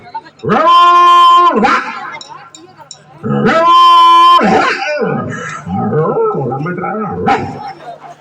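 A man mimics village dogs barking, giving long drawn-out howling barks followed by shorter yapping, whimpering yelps, loud and close with nothing else behind them.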